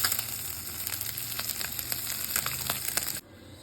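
Small mourala fish fry in hot oil in a kadai, giving a loud, steady sizzle with crackling pops that cuts off abruptly near the end, leaving a faint hum.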